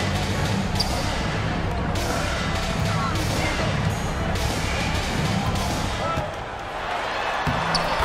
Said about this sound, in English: Banked it in off the glass